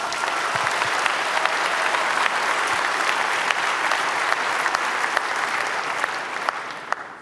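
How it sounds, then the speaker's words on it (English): Sustained, loud applause from a large conference audience greeting speakers at the 28c3 hacker congress, dense steady clapping that fades slightly toward the end. "please welcome them with a huge round of applause"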